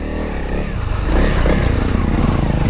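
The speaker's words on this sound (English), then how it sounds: "Honda trail bike." A Honda CRF 300L dual sport motorcycle is ridden on a trail, its single-cylinder engine chugging steadily and rising as it pulls harder, loud and close, with some clatter from the soft suspension.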